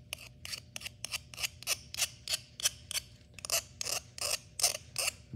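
A metal file scrapes repeatedly across the edge of a copper medallion in rapid rhythmic strokes, harsh and raspy, close up and alone, with a brief pause midway.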